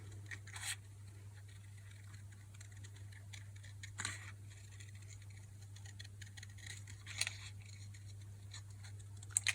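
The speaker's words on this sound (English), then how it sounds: "So now what I do is just fussy cut them." Scissors fussy cutting faux specimen leaf cards made of paper: faint, sparse snips spaced a few seconds apart over a quiet room hum, with no talking.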